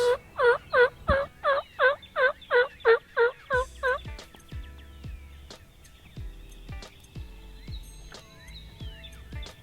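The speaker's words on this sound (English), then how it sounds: "the turkeys are gobbling on the roost right before they hit the ground" A loud series of rapid, rhythmic wild turkey gobbles from the roost in Kentucky, about a dozen in a row, then quieter calls and scattered knocks continue.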